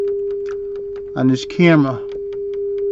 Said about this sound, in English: you're going to hear a sine wave